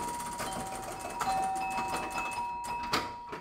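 Chimes ringing on a Mars Trek pinball machine, a quick run of bright bell-like dings and tones over background game clatter, fairly close and moderately loud.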